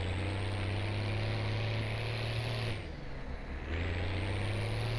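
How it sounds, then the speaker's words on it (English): A Farming Simulator 17 tractor engine drones at a steady low pitch while planting potatoes, briefly dipping and easing off before returning to its constant hum, with no talk. "this tractor just sounds like, oh, it's fantastic"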